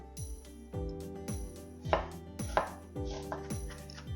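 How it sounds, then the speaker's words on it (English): Knife finely chopping a small piece of onion on a cutting board, a steady series of close, crisp knocks about every half second, fairly quiet, with no talking. "I'm going to finely chop a small piece of onion."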